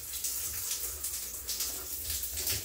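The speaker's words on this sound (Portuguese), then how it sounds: "vou desligar a água aqui" Shower water streams from a Hydra Fit electric shower head, a soft continuous hissing spray with faint surging splashes, fairly quiet and steady and alone without speech.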